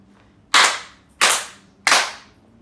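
Three loud, sharp hand claps for camera sync, evenly spaced about two-thirds of a second apart, each ringing briefly into a quiet room with no talking.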